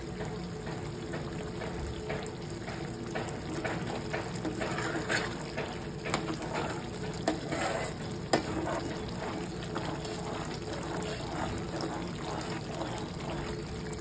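Small pieces of hibiscus flower sizzle and spatter in hot amla oil in a pan, a steady crackling fry with scattered sharper pops throughout.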